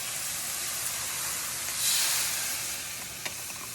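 Sauce poured onto browned ground beef with cooked onions, garlic, ginger and mirin hisses into a steady sizzle in the hot pan, swelling briefly as it hits and then settling into a constant bubbling fry.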